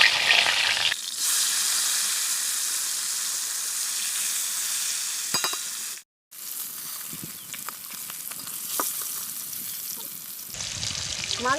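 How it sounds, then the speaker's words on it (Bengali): Fish frying in oil for a mixed-fish curry with Malabar spinach and taro, a loud bright sizzle with intermittent clattering turns and a brief silent break midway. "এবার মাছটা ভেজে নেব।"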